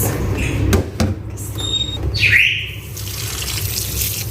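Fresh vegetables for chicken tinola are rinsed under a running kitchen tap, with a steady, close rush of water splashing throughout and a few brief knocks near the start.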